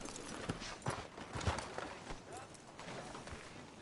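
Horse hooves clip-clop at a walk in the video game Red Dead Redemption 2, quiet irregular thuds spaced about half a second apart, with faint background voices.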